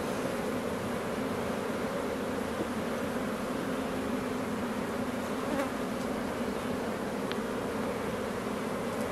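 Honeybees buzz steadily around an open hive during a swarm-prevention inspection, a dense continuous hum of many insects close by with no voices.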